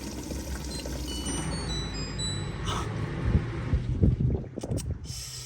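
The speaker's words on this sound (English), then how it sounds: "Oh, wait, is it gonna drain? Is it gonna drain?" Hotpoint ActiveCare washing machine draining water: a continuous rushing, gurgling flow with a few louder sloshing surges toward the end, heard close and alone.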